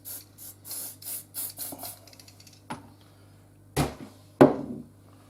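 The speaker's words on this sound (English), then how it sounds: "So we'll spray some Legion spray on it." Legion spray being applied to a Calibre Innovations Double R practical shotgun during cleaning: two short, sharp spray bursts near the end, preceded by quieter rubbing and handling noises.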